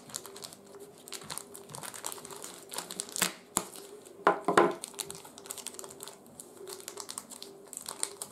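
Plastic or paper packaging on a parcel holding a silver Netherlands gulden coin is torn and unwrapped close by, with scattered crinkling rustles and a few sharp louder crunches near the middle, and no talking.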